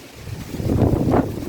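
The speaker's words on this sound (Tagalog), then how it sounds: "Grabe ang hangin." Strong wind gusting at an outdoor build site of a bahay kubo, a rumbling buffet against the microphone that swells and peaks before easing slightly.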